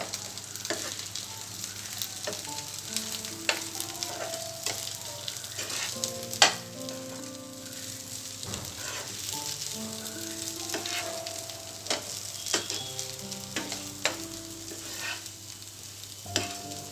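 Masala mixture for stuffed brinjal curry sizzles steadily in a pan, with frequent scraping strokes of a spoon and occasional sharp clinks, close and moderately loud, no talking.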